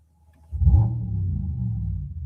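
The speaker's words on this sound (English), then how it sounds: "they've made it sound like a V8. Guys, this is the new Mercedes-AMG GT 4-door coupe, the first high-performance electric car" A Mercedes-AMG GT 4-door coupe, a high-performance electric car, gives off a synthetic V8-like sound: a deep, close rumble that swells after a short silence and holds steady.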